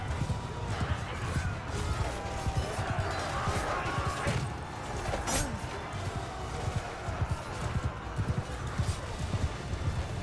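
Galloping horse hooves in the battle game Mount & Blade II Bannerlord, a busy, continuous drumming of many hoofbeats with clashes and crowd din as cavalry rush across the field, under someone talking.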